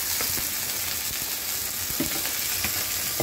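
Figs (dumur) frying in a pan, a steady dense sizzle with scattered crackles and pops, close and continuous, with no voices.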